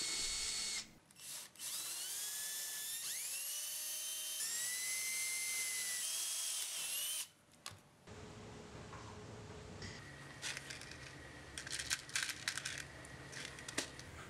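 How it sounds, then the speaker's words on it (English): A power drill with a quarter-inch brad point bit bores rivet holes through Kydex sheath material, a loud steady high-pitched whine that rises and falls in separate bursts, close up with no talk. "Now I'm going to drill all the rivet holes using a quarter inch brad point bit."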